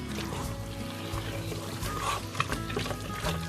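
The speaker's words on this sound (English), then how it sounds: "pop just a little bit extra yogurt in there now, just to create a sauce and a liquid for the rice to soak up later" Extra yogurt poured into a pot of lamb pilau, a soft wet trickle and splash of liquid against a low background hum with no talking.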